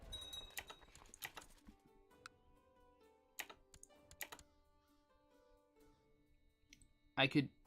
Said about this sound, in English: I'm certain you can hear my keyboard.